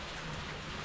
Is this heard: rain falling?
yes